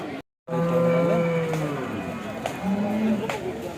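A third-lactation cow at the Gorantla cattle market in Andhra Pradesh lows in long, close moos over a noisy crowd, with people talking nearby.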